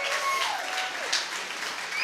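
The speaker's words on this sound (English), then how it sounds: "Rather raucous applause here today at the library" Raucous applause from a live radio audience at the Boston Public Library, a dense continuous wash of clapping with faint voices mixed in.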